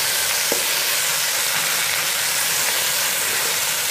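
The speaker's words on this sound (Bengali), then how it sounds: "এর মধ্যে এখন আমি সবজিগুলো ছেড়ে দেব। আর দিয়ে দিব কাঁচামরিচ," Mixed vegetables and green chillies drop into hot oil with blackened cumin seeds, setting off a loud, continuous sizzle and hiss of frying that holds steady throughout, with no voices.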